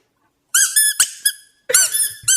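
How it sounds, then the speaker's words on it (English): A squeaky rubber toy duck is pressed several times in quick succession, giving sharp, high, close-up squeaks in two bursts separated by a brief pause, with no voices. "I was playing with it, and I accidentally made it squeak."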